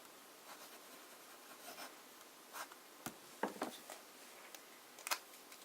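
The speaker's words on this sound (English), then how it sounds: "Then maybe I should do some regular writing with a medium nib." A medium-nib fountain pen writes with Diamine Pumpkin ink on paper, giving faint, close scratchy strokes in short uneven bursts with a few small taps, very quiet against a soft background hiss.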